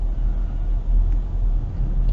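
Muffled interior of a car moving slowly in traffic, captured by a dashcam's built-in microphone: a steady low road rumble and engine hum, calm and even throughout.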